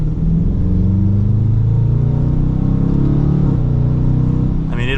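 A 2023 Dodge Challenger R/T V8 accelerates hard, heard from inside as a loud, deep engine roar that rises steadily in pitch for several seconds before easing near the end.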